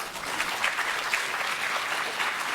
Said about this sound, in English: round of applause to all our parents